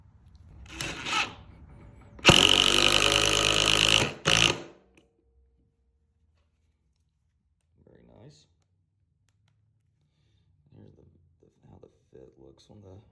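Power driver turning a screw with a Milwaukee Shockwave bit, a short whir followed by a louder two-second buzzing run and a brief final burst, then quiet with faint handling clicks later.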